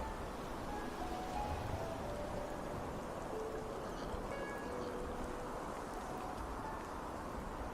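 Steady rain falling around an old watchtower in the fantasy role-playing game Enderal, a constant dense hiss with no breaks and no voices.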